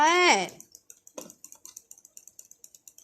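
A voice speaks briefly, then a computer keyboard clacks in a quick, uneven run of crisp key presses, close and fairly quiet.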